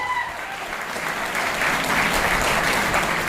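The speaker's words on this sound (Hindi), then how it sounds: "तो एक जोरदार ताली चाहिए मेरी great apply doctor Ajay sir के लिए" Audience giving a loud round of applause to a guest speaker at a business seminar, a dense continuous wash of clapping that swells slightly toward the end.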